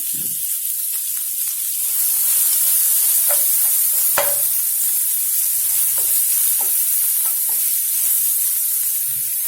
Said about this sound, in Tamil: இப்போ நான் கட் பண்ணி வச்சுருக்கிற வெங்காயத்தை சேர்த்து ஒரு 2-3 மினிட்ஸ் நல்லா வதக்கிக்கலாம்